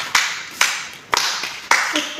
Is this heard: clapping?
yes